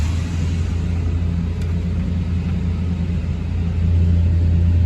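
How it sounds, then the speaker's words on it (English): Engine of a Ford E150 Econoline van running with a steady low rumble and hum, close and continuous, with a slight rise in level near the end and no speech. "So we want to start the vehicle."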